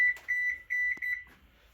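A slow cooker's timer sounds a run of short, clear electronic beeps in quick groups, close and steady in a quiet room, ending in a brief click.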